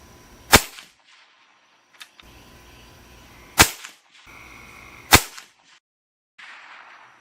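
An Avenger PCP air rifle fires three sharp, loud shots a couple of seconds apart while sighting in at 50 yards, each crack followed by a short ringing tail, with quiet outdoor gaps between.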